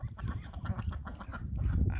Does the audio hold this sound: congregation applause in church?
no